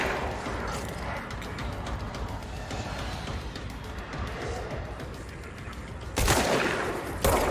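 Gunfire from the video game Control, aimed at an object: a sustained volley of shots over background game noise, with a louder burst near the end.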